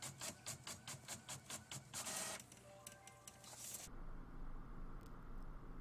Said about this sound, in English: And print a test page.